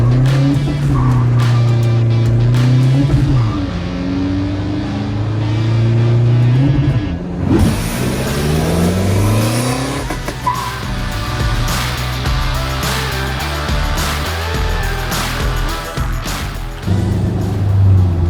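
A 2020 Toyota Revo pickup with a remapped engine accelerates hard from standstill toward 160 km/h, its engine note climbing through the gears with brief dips at each shift, loud and close throughout.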